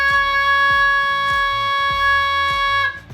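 One flat, unwavering goose call note is held for several seconds over repeating low thuds, ending in a sudden break.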